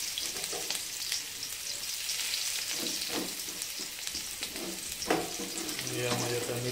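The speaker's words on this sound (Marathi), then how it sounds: "थोडासा आता तळू द्यायचा कांदा" Chili and onion frying in hot oil in a pan, a steady close sizzle with intermittent crackles and stirring scrapes, no talk.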